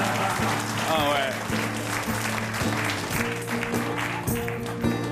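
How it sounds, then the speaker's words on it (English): A comedy club audience claps loudly and steadily for a stand-up comedian, and a voice carries on talking underneath the clapping. "I'm gonna make believe nobody clapped."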